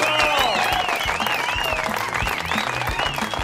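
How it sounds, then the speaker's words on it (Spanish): Studio audience applause on a talent show, steady clapping heard under background music and a presenter's voice. "Alejo de San Telmo, aplauso fuerte, por favor."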